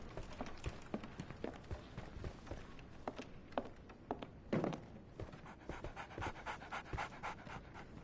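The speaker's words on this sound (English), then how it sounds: "So, Barnes has a dog now." A dog panting rapidly and steadily in the Sherlock Holmes: The Awakened video game, close and continuous, with faint footsteps mixed in.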